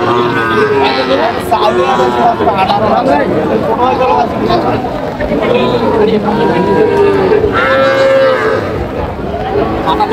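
A young bull calf at a busy cattle market gives repeated loud, drawn-out moos close by, while buyers and sellers talk and a crowd babbles throughout.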